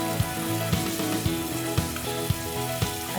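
Chicken fries loudly in a pan with a dense, continuous sizzle, punctuated by regular sharp clicks roughly every half second, like a utensil tapping or stirring; no voices.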